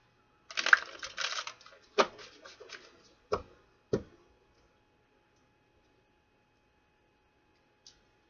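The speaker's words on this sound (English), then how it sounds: "One more shuffle here." Tarot cards being shuffled by hand, a quick riffling burst followed by a few separate sharp slaps and taps of the deck, close and fairly quiet, then near silence.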